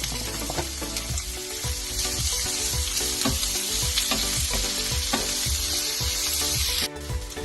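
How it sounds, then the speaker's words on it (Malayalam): Chopped onions with coconut pieces and ginger frying hard in a pan for a Kerala pork roast, a steady loud sizzle punctuated by regular scraping stirs, with no voices. "ഇപ്പം നമ്മളുടെ സവോളയൊക്കെ ഒന്ന് നല്ലവണ്ണം വഴന്ന് ഒന്ന് മൂത്ത് തുടങ്ങിയിട്ടുണ്ട്."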